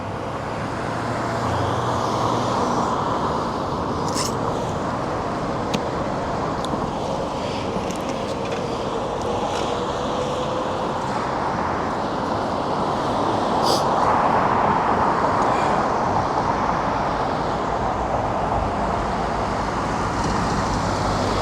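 Heavy road traffic rolls steadily past a cyclist on a sunny Vancouver street, with a truck among the passing vehicles; a continuous broad roar of engines and tires stays loud throughout, swelling slightly mid-way.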